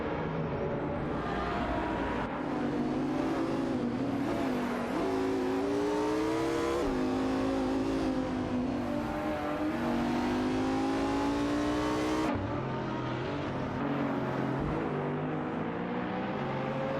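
Several racing cars in a simulated race roar with high, rising engine whines as they overtake, gear shifts marking sharp drops before the pitch climbs again, loud and continuous with no voices.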